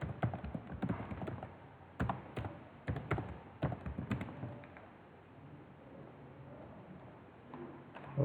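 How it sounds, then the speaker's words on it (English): Password typed on a computer keyboard while installing an SSH server on Linux: a burst of close, quick key clicks with a few heavier taps, easing off into quiet near the end. "just type the password"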